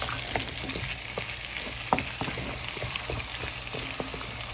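Greens and sweet potato sautéing in a pan, a dense continuous sizzle with scattered sharp crackles and occasional stirring clicks, close and steady, no speech.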